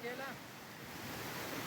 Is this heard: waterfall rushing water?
yes